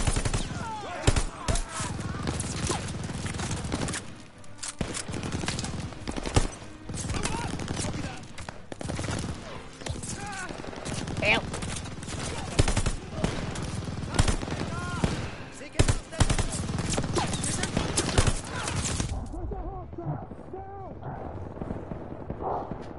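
Dense gunfire in the World War II shooter game Call of Duty: Vanguard, with rapid machine-gun bursts and booming shots layered loudly over shouted voices and battle noise before cutting to quieter sounds near the end.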